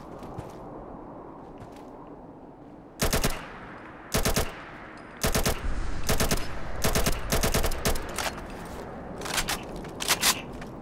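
A modded machine gun in the video game Fallout fires in several loud, close bursts of rapid shots, some short and some longer, with quieter ambient gaps between them.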